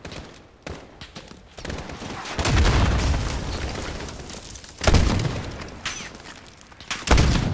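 Gunfire bursts in Modern Warfare 2019, sharp loud volleys with rapid shots and a heavy boom near the end, separated by short lulls of rumbling background.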